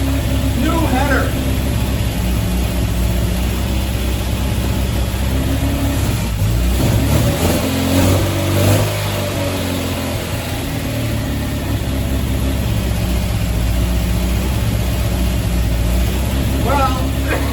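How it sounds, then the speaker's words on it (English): A 1974 MGB engine with a new header runs after sitting for many years, idling roughly and revving up in the middle, loud and close throughout, with people talking over it. "74 MG, after sitting for many, many, many years, is now running"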